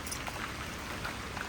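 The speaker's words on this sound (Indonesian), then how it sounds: "Dan tiba-tiba hujan lagi ya teman-teman" Sudden rain falls outdoors as a steady, soft hiss with scattered light drops pattering on surfaces, continuous and fairly close, with no voices.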